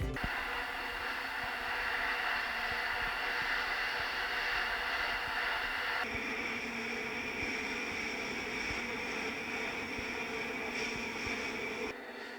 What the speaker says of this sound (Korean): 먼저 지하철 소음이요.